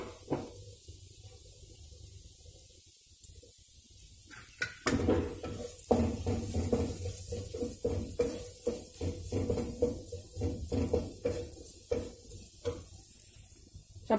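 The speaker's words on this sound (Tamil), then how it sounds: "எண்ணெயில் போட்டு நல்லா ஃப்ரை பண்ணி எடுத்துக்கலாம்" Pieces of chapati fry in hot oil for egg kothu chapati. The clip opens nearly quiet, then bursts of crackling sizzle and scraping stirs come in and continue unevenly, close by.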